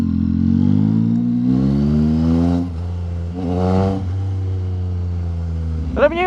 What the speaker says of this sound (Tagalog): Sarap talaga pakinggan kapag 3-cylinder makina mo, no? Buong buo eh. Lalo na kapag naka full system ka.